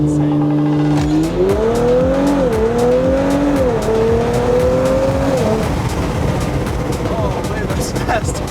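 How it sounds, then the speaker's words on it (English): Modified Audi with an upgraded exhaust and turbo inlet accelerating hard uphill, engine tone climbing through gears with a loud, close exhaust note and turbo whoosh, then fading into road and tire noise. "how do you like the exhaust and the turbo inlet for more turbo noise and definitely the exhaust tone?"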